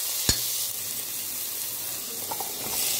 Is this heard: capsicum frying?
yes